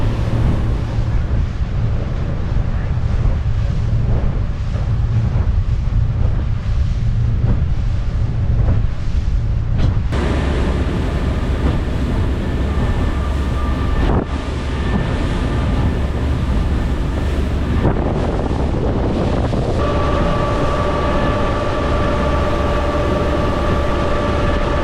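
Motorboat cruising fast over bumpy water at about 32 mph, a steady loud engine roar mixed with wind buffeting and hull slaps, with shifts in tone as the boat hits chop.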